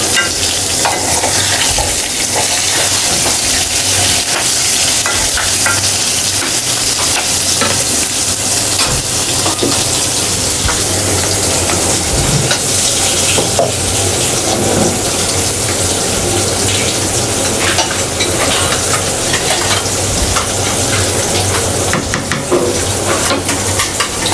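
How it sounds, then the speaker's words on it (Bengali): Beef biryani cooks in a pot, stirred continuously, giving loud, unbroken sizzling with scraping and clattering stir strokes close by throughout. "বিরিয়ানিটা রান্না করতেছি"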